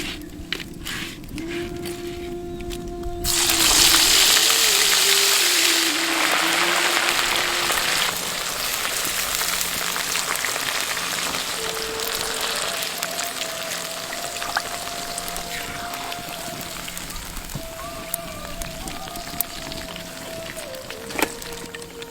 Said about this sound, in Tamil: எண்ணெய் நல்லா காஞ்சதும் நம்ம மசாலாவோட கலக்கி வச்சிருந்த நண்டை இப்ப பொரிக்க